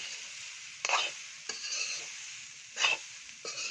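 A spatula scrapes and stirs sweet amla (Indian gooseberry) pickle through a pan several times over a soft, steady background sizzle.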